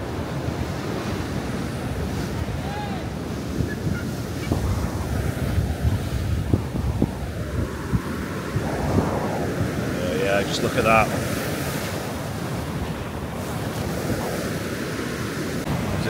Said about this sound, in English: So it's certainly a spectacular just watching this as the waves come crunching in.